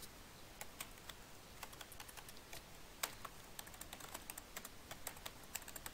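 A password is typed on a computer keyboard, a quiet, close run of light, quick key clicks in an uneven rhythm with no talk.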